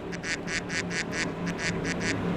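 Duck quacking sound effect played off a soundboard, a rapid run of about nine nasal quacks in steady rhythm, close and clear over a low background rumble.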